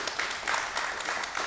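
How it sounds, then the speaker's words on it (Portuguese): Church congregation applauding at the close of a Sunday-morning worship service, a steady dense wash of clapping that holds evenly from start to finish. "Uma salva de palmas para o Senhor nesta manhã"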